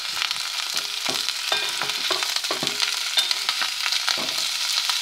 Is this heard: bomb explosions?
no